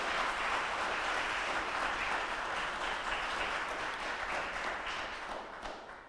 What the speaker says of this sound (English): Can we have another round of applause for Mr.